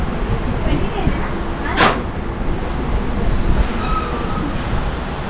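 Steady rumble and rattle of the Avantika Express moving through a station on its Mumbai to Indore run, heard from inside a sleeper class coach, with a brief squeal partway through.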